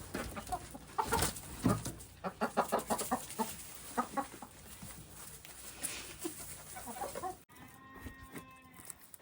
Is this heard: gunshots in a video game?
no